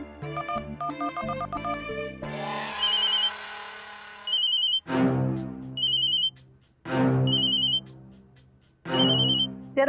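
A telephone rings insistently in a comedy sketch, with a repeating electronic ringtone pattern that cycles in bursts with short gaps, loud and close, with no one talking over it.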